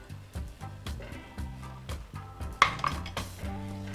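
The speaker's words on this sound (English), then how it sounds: "Give it all a lovely stir" Beef and tomatoes for a pepper beef curry stirred in a cooking pot, with repeated scraping and clinking of a spoon against the metal, close and rhythmic, in a steady series of strokes.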